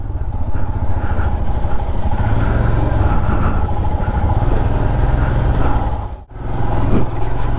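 A motorcycle ridden on a road during a monsoon ride home from Tajpur toward Kolkata, a loud continuous engine rumble mixed with wind noise, steady throughout apart from a brief dip near the end.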